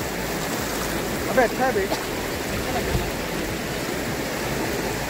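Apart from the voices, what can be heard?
fast-flowing Shivnath river in flood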